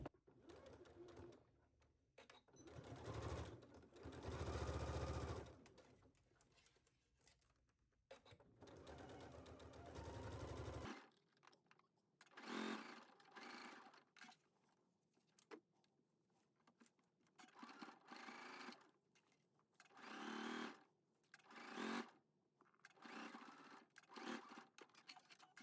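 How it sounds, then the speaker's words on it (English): Domestic sewing machine stitching lining and outer pieces of a McCall's M8475 garment, loud steady whirring runs in the first stretch, then shorter stop-start bursts of stitching, close and without talk. "I'm going to put my presser foot down and start to sew"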